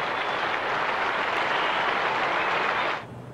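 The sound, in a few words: crowd standing ovation applauding Brian Lara at cricket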